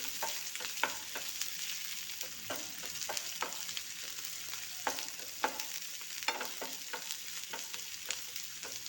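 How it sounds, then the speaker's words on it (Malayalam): Chopped onion sautéing in a pan with a continuous sizzle and repeated sharp scrapes and taps of a spoon as it is stirred. "ഈ സവാള ചെറുതായിട്ട് ഇങ്ങനെ വഴറ്റി"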